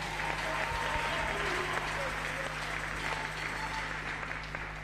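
A church congregation at a live worship service applauding steadily, a dense continuous wash of clapping with voices mixed in, under a low steady hum throughout.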